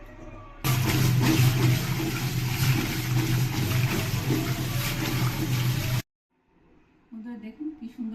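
Water from boiled potatoes is poured off in a loud, close, continuous gush lasting several seconds. It stops abruptly and is followed by a brief quiet and some faint handling sounds.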